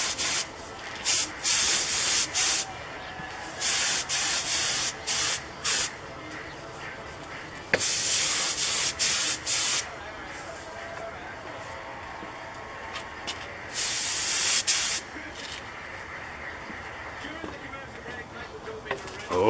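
A spray gun lays a light primer coat on a Corsair canopy plug, releasing a series of loud, airy hissing bursts of a few seconds each, separated by quieter pauses.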